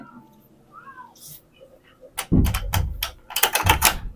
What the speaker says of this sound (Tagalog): Pumasok yung pusa, tapos, nakinig nyo, di ba, may nalaglag.